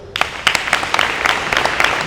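An audience at a coaches clinic bursts into applause, a dense wash of many hands clapping steadily for about two seconds after a brief quiet start, with no talk over it.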